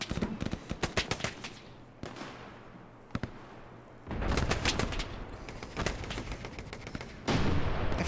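Gunfire in the video game Hell Let Loose: repeated sharp shots and bursts crack out close and loud at an irregular pace, with heavier rumbling volleys and a dense stretch of continuous firing in the second half.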